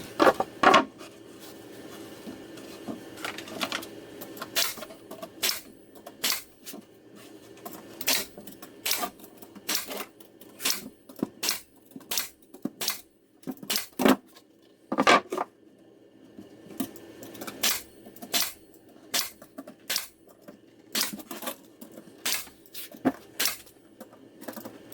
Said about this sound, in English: tack it in with a nail gun